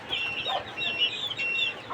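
Many chickens cluck continuously at close range in a coop in intense heat and sun, a busy overlapping chatter of hens with no pauses.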